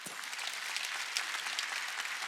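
A church congregation at a Wednesday worship service breaks into steady applause, a dense wash of many hands clapping together with no voices over it for a couple of seconds.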